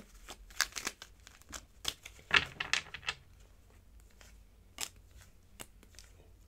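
Tarot cards shuffled by hand up close, a series of quick riffling and sliding bursts with short pauses between, fairly quiet and without talking.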